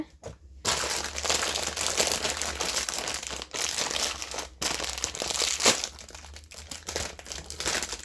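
Plastic packaging crinkles and crackles as it is opened, a loud, close, continuous rustling broken by a few brief pauses, with no talking.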